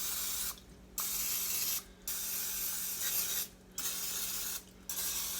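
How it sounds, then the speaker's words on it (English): Vegan non-stick cooking spray hisses from an aerosol can onto a pan in four loud, steady bursts separated by short pauses, close to the mic. "I usually get a non-stick cooking spray, a vegan non-stick cooking spray, and I'm going to spray my pan here"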